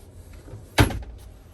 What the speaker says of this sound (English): You can hear all the doors lock and unlock as we shift it from drive to park